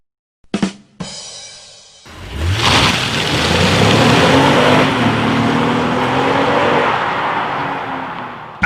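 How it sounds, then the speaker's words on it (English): A Honda Passport SUV accelerates hard onto a highway, its engine note building loudly and steadily from close by after a couple of brief thumps, with rising harmonic tones as it pulls through the gears and no talking. "let's test out the acceleration on this one"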